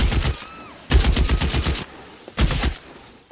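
Rapid gunfire bursts from an L.A. Noire shootout come in three loud, close clusters of quick shots, separated by short pauses.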